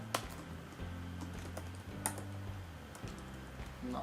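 Rapid typing on a computer keyboard, with irregular bursts of close, crisp key clicks and a few heavier thumps, sounding alone with no talk.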